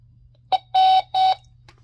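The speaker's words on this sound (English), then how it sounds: "you're gonna hear the beep" Three short electronic beeps from a smart camera during app pairing: a brief chirp followed by two longer tones, clear and close in an otherwise quiet room.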